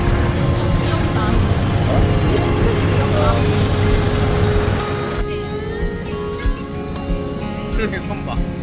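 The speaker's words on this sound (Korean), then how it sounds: "비행기 있어." A steady airplane engine roar at an airport on Koh Samui, Thailand, loud and continuous throughout, easing slightly after the midpoint, with a child and adults chatting over it.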